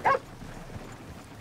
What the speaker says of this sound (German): Voll der Hund.